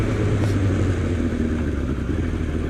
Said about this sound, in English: This bike is powered by a 599cc inline 4-cylinder 4-stroke engine.